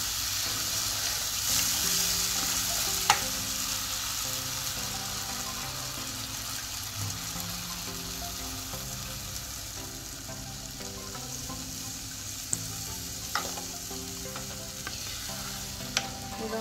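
Crab frying in a pan for crab masala, stirred now and then: a steady close sizzle with occasional utensil clicks and scrapes, under soft background music and without speech.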